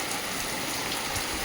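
Rain pours steadily outside a house, heavy enough to flood the ground, making a constant even hiss with no voices.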